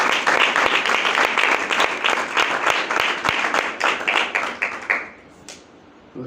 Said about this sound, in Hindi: आइए ज़ोरदार तालियां इस गीत के लिए बजाते हैं